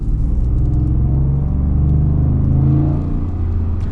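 Ford F-150 Lobo with a 5.0 V8 and a louder-than-stock exhaust, heard from inside the cab: a steady, deep, loud rumble that holds for the whole stretch with a slight swell in the middle, no talking.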